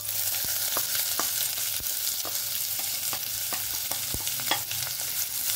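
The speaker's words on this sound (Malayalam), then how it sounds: "ഇനി നമുക്കിതിലോട്ട് നമ്മൾ അരിഞ്ഞു വെച്ചിരിക്കുന്ന സവാള ഇടാം." Chopped onions dropped onto hot oil with cumin and sautéed in a pan for paneer masala: a steady, close, dense sizzle broken by frequent sharp clicks and scrapes of a spoon stirring. No voices.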